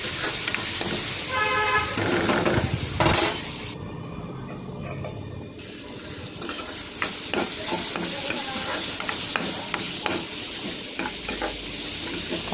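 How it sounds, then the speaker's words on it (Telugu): Carrots with turmeric and curry leaves cook in a covered pan, giving a steady sizzle and frying hiss throughout with a few stirring scrapes and clatters near the start. "క్యారెట్ వేగిపోయింది దగ్గరికి."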